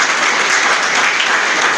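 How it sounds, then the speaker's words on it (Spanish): Applause from a church congregation during a Spanish-language sermon, a steady dense wash of clapping throughout the short stretch, fairly loud and close. "¿Cuántos dan un aplauso al Señor?"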